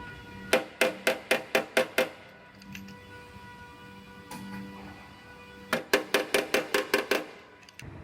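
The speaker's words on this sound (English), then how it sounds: "so I could get inside this taillight pocket and hammer this area out" A short-throw hammer strikes metal inside a Jeep taillight pocket during bodywork, giving two quick bursts of about seven sharp, evenly spaced metallic blows, with a quiet pause between them.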